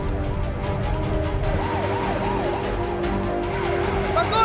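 A police car siren wails in rising and falling sweeps, loud and close, over the rumble of a moving vehicle and a busy action scene.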